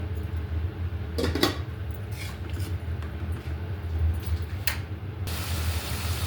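Dried puti fish sautéed in a pan: occasional scrapes and clanks of a utensil against metal over a low, steady frying hiss, fairly quiet and with no voices.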